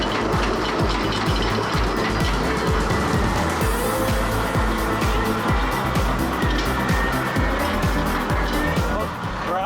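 A New Holland C232 compact track loader engine runs loud and steady with a pulsing, rhythmic idle throughout, voices talking faintly underneath.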